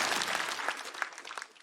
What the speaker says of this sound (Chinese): 掌声再给宋万博